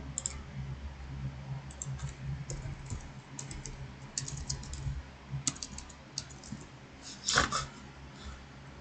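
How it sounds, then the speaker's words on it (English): A computer mouse and keyboard click repeatedly during Minecraft play, a quiet, close scatter of light plastic clicks and taps in irregular clusters over a soft background hiss, with no talking. "Sitting here individually clicking on all."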